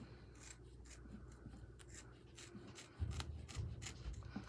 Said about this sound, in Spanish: aquí estoy cortando